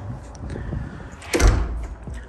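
The ordinary house-style door of a shed opens with a single loud, close clunk and low thump, then a brief rattle, against faint rustling.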